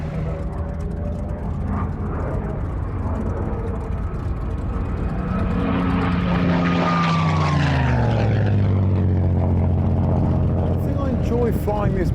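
A Messerschmitt Bf 109 with a Daimler-Benz inverted V engine flies past, its loud propeller roar building and then dropping in pitch as it passes overhead and recedes.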